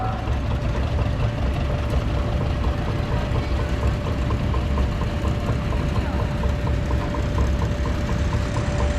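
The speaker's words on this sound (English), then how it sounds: "This is a John Deere Model H. This was the smallest two-cylinder that they were building." A 1941 John Deere Model H, the smallest two-cylinder tractor of its line, runs steadily at a threshing-show parade, its engine a continuous low chugging rumble with outdoor crowd noise behind it.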